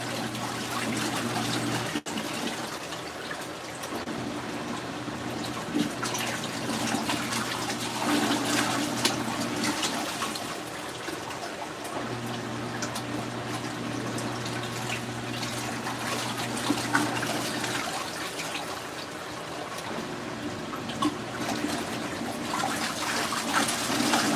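An LG ThinQ MEGA Ultimate washer fills with water for the rinse of a sportswear cycle, a steady rushing and trickling flow running continuously at moderate level beneath a low mechanical hum that cuts in and out.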